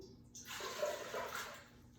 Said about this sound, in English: We're going to go ahead and put 4 cups of water